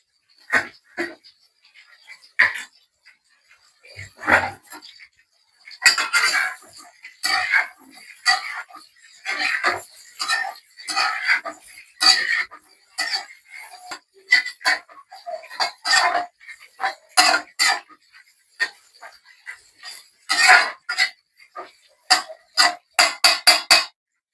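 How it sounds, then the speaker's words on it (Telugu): A chicken and noodle mixture is stirred and mixed by hand in a pan, giving irregular bursts of scraping and clinking that come in quick clusters, fairly close and loud, with no talking. "ఇప్పుడు ఈ మిశ్రమాన్ని బాగా కలుపుకోవాలి."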